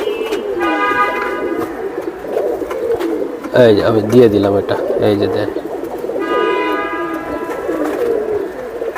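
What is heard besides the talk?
old breed big size pigeons cooing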